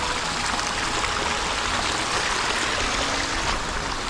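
Water runs steadily across a mountain road, a constant hissing, splashing wash with no breaks, fairly close and with no voices.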